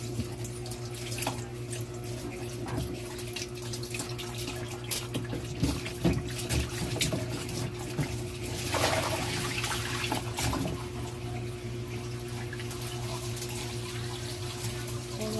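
Alugbati leaves being washed under a running kitchen tap, with a steady close stream of water splashing into the sink and brief surges as the leaves are handled, no voices.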